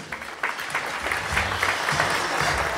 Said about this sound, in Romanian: Aplauze pentru domnul Ionuț Iuria!